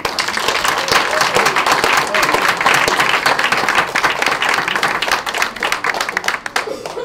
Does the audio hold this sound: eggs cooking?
no